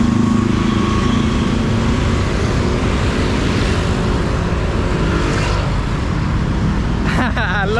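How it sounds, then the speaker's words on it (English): Bangkok street traffic full of scooters hums loud and steady, a dense mix of small engines and road noise close by, with a brief clatter near the end. "I love the scooter energy here in the city. There are scooters absolutely everywhere"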